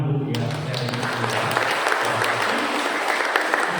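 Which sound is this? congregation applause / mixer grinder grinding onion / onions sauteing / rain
congregation applause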